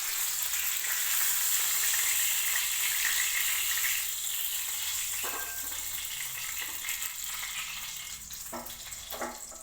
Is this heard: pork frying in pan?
yes